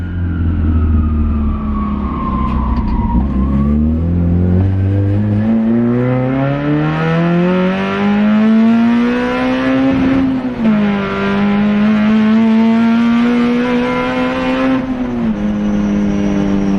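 A Toyota AE86 fitted with a Beams engine revs loudly on its first street drive, its close, strained note climbing and dropping in pitch through several gear pulls with no talking.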